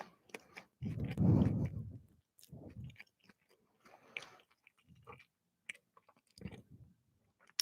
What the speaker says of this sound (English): Do you want to see me ASMR this custard?